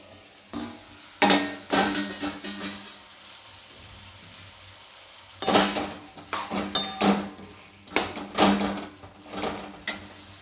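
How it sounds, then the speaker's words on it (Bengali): A metal lid lifted off a cooking pot of Bengali tomato and jujube chutney gives several close, sharp clanks and rattles in two bursts, with quiet pauses between and no talking. "এবার আমি ঢাকাটা খুলছি।"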